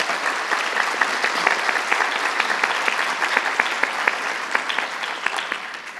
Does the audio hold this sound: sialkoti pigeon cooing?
no